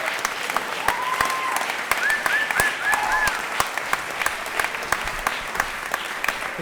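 Sustained audience applause fills the room after a poetry performance, dense clapping steady throughout with a few sharper claps and a faint whistle or cheer above it.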